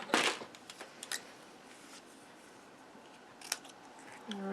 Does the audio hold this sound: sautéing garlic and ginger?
no